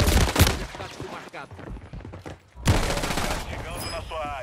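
Rapid gunfire crackles in Call of Duty, with bursts of shots up close, a gap, then another loud volley, and a voice talking over the action.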